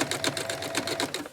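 Sewing machine edge stitching around a skirt waistband facing, a steady rapid rhythmic whir of needle strokes, close and continuous with no talking.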